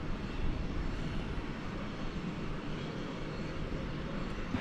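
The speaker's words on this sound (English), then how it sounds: "Poised for takeoff there is American Flight 2224 to Portland, Oregon. It's an Airbus A321." An American Airlines Airbus A321 takes off at DFW Airport at night, its engines making a steady, broad, distant roar that holds level throughout with no talking.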